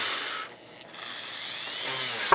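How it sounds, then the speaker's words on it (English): A handheld rotary drill enlarges a hole during a DIY CFL lightsaber build, giving a faint, steady grinding whir that dips briefly before rising again. "So I'm going to use a rotary drill to increase the size."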